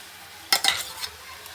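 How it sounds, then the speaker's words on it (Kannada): Moringa paste fries in a pan without added water, heard as a few quick scraping stir strokes over a faint, soft sizzle, close and alone. "ಅದನ್ನು ಸ್ವಲ್ಪ ನೀರು ಹಾಕ್ದಲೇ ಹೀಗೆ ಫಸ್ಟ್ ಫ್ರೈ ಮಾಡ್ಕೊಳ್ಳಿ. 2 ನಿಮಿಷ ಫ್ರೈ ಮಾಡ್ಕೊಳ್ಳಿ ಸಾಕು."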